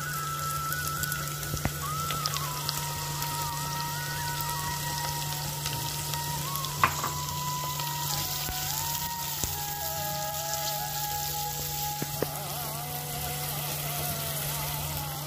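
Onions fry with a steady broadband sizzle and crackle in a pan for capsicum masala curry, continuous and fairly close, with a low steady hum underneath and no talking.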